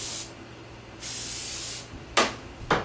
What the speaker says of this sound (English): you're gonna spray the edges